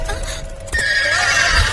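A horse neighs loudly up close, a rising whinny that holds for about a second amid hoof clip-clops and a low rumbling background, with no speech.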